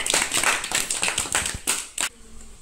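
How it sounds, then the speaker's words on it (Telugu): Children in a classroom maths lesson break into quick, rhythmic group applause, a close burst of claps lasting about two seconds before stopping. "Okay, very good. క్లాప్స్ మా."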